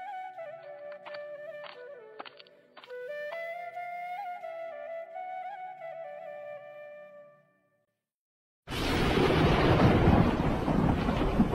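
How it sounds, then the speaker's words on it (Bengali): Rain sounds in a Bengali cartoon about a farmer on a rainy day: a sudden loud, dense hiss of downpour bursts in after a brief silence, following a stretch of soft musical tones. "বৃষ্টি পড়ছে যে"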